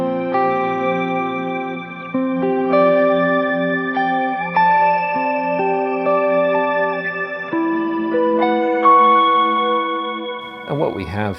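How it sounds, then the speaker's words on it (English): Sustained synth-like chords through a Strymon BigSky shimmer reverb, pitch shift applied to the reverb, with a bright, airy shimmer of octave-shifted tails layered above, swelling smoothly; a brief clatter at the end. "it's basically, it's pitch shift applied to the reverb"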